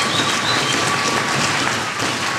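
A church congregation applauds its leaders during a sermon, with dense, steady clapping that fills the whole stretch at close range, with no voice rising above it.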